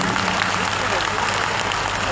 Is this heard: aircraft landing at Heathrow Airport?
no